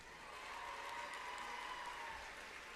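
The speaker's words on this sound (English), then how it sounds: "let's give them all a big round of applause" Applause from the audience at the BC Winter Games opening ceremony in Quesnel, a steady even wash of clapping from a large crowd that holds for the whole stretch without talk.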